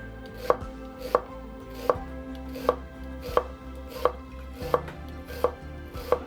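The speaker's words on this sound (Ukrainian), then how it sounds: "Пів цибулини наріжу півкільцями," A knife chops half an onion into very thin half-rings on a board, about ten crisp, evenly spaced strokes, each a sharp close knock, with no talking.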